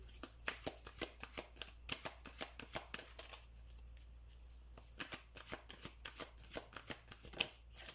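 A fairy oracle card deck being shuffled by hand, soft rapid riffling and flicking of cards close by in quiet bursts with a short pause midway, no voices.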